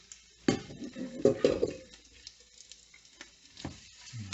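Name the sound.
hootsla frying in a pan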